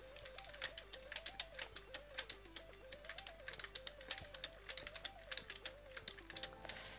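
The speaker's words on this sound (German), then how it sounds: "Wenn ihr meine Tastatur hört, dann tut es mir leid." Fast typing on a computer keyboard during a Minecraft game, a rapid run of sharp clicky keystrokes in quick irregular bursts, close and quiet, over a soft melodic game tune and no talking.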